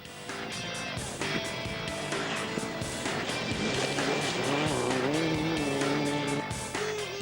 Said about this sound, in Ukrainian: Повз нас на трасі пронеслись всі претенденти на призові місця.